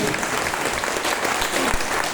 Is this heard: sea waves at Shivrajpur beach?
no